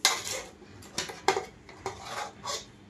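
A spoon stirs chicken biryani masala in a metal pot, giving a series of clanks and scrapes against the pot in an uneven rhythm, close and fairly quiet.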